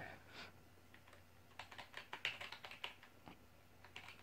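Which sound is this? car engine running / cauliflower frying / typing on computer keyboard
typing on computer keyboard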